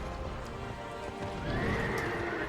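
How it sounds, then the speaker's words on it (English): Skeleton horse in the Dark Souls 2 video game, a steady horse-like sound with hoof clip-clop and whinnying tones, fairly loud and continuous over game background noise. "oh wait, this is a skeleton horse"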